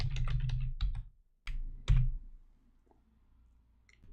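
A master password is typed on a computer keyboard in quick, close clattering bursts of key clicks, with a short pause midway and a final tap at the end.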